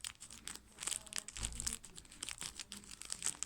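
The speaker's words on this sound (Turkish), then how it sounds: "Gördüğünüz gibi gözünüzün önünde makasla kesiyorum." Scissors cut open the cardboard box packaging of a wallet, giving close, continuous crinkling and crunching snips with a brief louder crunch near the middle.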